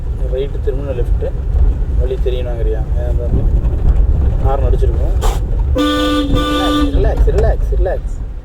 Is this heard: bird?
no